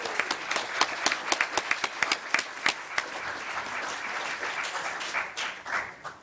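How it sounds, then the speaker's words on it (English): An audience at a League of Women Voters candidate forum gives five election candidates a round of applause, close sharp individual claps over a steady crowd patter that tapers off. "how about a round of applause for these 5 candidates?"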